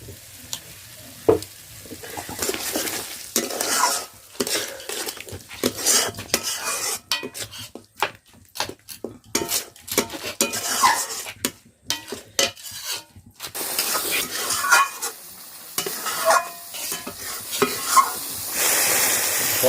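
Crab curry cooking in a pan on a Sundarbans picnic, coconut milk poured in and stirred with a metal spoon, giving irregular scraping clinks over a steady frying sizzle, fairly close and with no talking.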